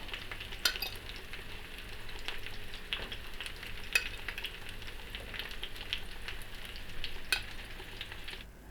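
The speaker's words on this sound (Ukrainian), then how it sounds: "Ще хай трошки посмажиться з цього боку і буду виймати." Steady soft sizzling and crackling of chicken liver frying in a pan, with occasional faint clicks of a utensil, close and quiet.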